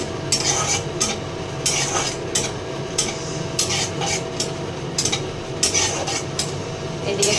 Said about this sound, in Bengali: একটু এদিকে শুকনা মরিচগুলো দিয়ে দিলাম শুকনা মরিচটা আর কি টোটালি পুরা জ্বলাইতে লাগবো